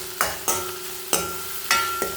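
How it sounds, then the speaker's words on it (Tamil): Curry leaves and green chillies sautéing in a pan, a low steady sizzle punctuated by about five sharp scraping strokes of a spoon at uneven intervals, close and moderately loud. "போட்டு நல்லா வதக்கிக்கலாம்."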